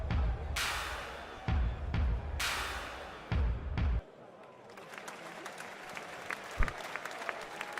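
A crowd claps in several loud bursts that start and stop abruptly, each lasting about a second. A quieter stretch with scattered sounds and talking follows.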